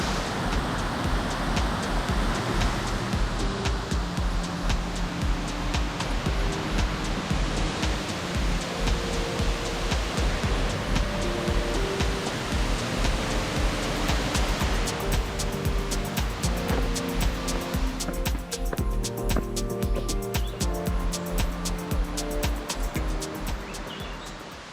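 Erawan Falls in a Thailand national park sends a broad, steady roar of rushing water, a dense continuous wash that stays constant throughout, with no voices over it.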